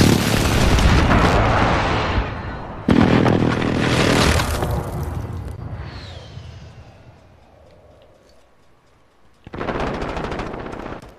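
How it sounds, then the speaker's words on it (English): Precision airstrike explosions in a video game: loud, sustained blasts and rattling gunfire-like bursts, a second heavy impact following the first, then a decaying rumble and a quieter stretch before another loud burst erupts near the end. "Be advised, friendly precision airstrike inbound."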